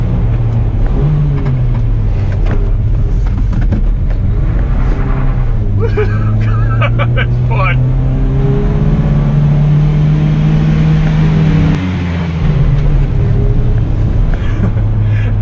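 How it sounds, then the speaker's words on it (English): The 2-liter overhead-cam four-cylinder engine of a 1979 Datsun 620 King Cab pickup drones and shifts pitch while driving, with a brief rise in revs midway; a voice speaks briefly over the motor. "The heart of this beast is a 2-liter overhead cam 4-cylinder engine."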